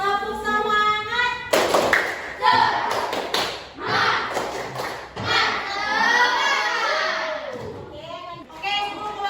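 Schoolchildren in a combined class do a rhythmic spirit clap together, bursts of sharp hand claps mixed with loud chanting voices and a teacher speaking, close and lively.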